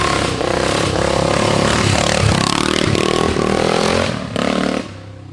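A 1978 Yamaha XT500 vintage four-stroke single built as a TT500 replica racer revs loudly and close, with the engine note rising and falling in bursts before dropping off near the end.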